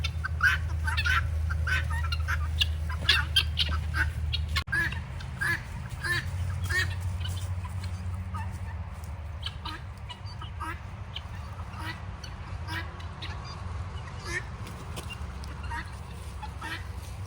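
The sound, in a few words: birds following the speaker along a trail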